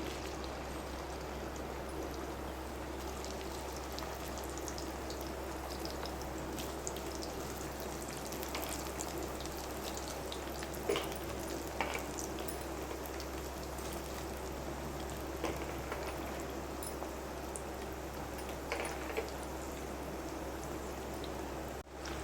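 Chicken pieces frying in hot peanut oil in a pan, a steady, even crackle and hiss with no break, soft and continuous, no voices.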